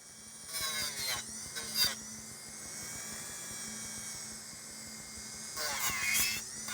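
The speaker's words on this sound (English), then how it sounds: "Filing your own nails with the e-file is pretty difficult." Electric nail file (e-file) grinding gel nails during crystal removal, a high steady whine that surges louder in short bursts as the bit touches the nail, close-up with no talk.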